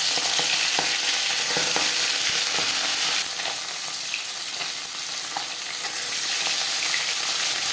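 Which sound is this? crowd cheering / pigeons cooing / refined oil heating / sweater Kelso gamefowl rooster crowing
refined oil heating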